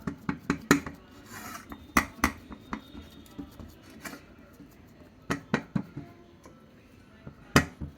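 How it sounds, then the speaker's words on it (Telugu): Millet roti dough is patted by hand on a plate that keeps turning, a close run of sharp slaps and taps in uneven bursts with soft rubbing between them, and no voice. "జాగ్రత్తగా ఇట్లా ప్లేట్ తిప్పుకుంటూ సాదుకోవాలండి"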